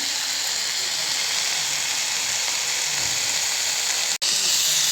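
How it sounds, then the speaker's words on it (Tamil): Broccoli fries in a pan for scrambled egg broccoli as its water cooks off, a loud, even, continuous sizzle and hiss close by, broken by a single brief dropout near the end. "ப்ரொக்கோலி ஃப்ரை ஆகி வரட்டும். வாட்டர் கண்டென்ட் போகிற அளவுக்கு நல்லா ஃப்ரை ஆகட்டும்."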